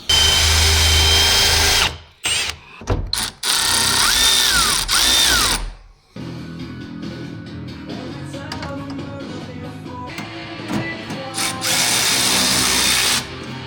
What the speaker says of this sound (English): So I'm gonna drill a hole here.